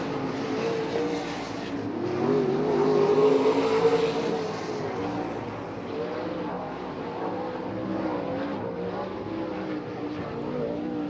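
Sprint cars roar through a heat race at Eagle Raceway, a loud, continuous engine drone that swells and fades as the pack passes, with no talk.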